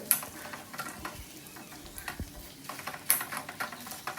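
Edible gum (dink) frying in hot oil for dink laddoo, a continuous close crackling sizzle with scattered pops and light stirring scrapes, steady throughout with no talking.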